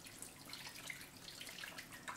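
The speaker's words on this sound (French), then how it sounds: "Et je lave tranquillement mes mains." A tap runs steadily while hands are washed beneath it, a faint, close hiss of splashing water with no speech.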